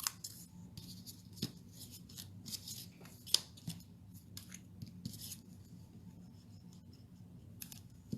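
Scissors snip through cardstock for a handmade greeting card, a series of quiet, close crisp cuts at an irregular pace with faint paper rustling between them.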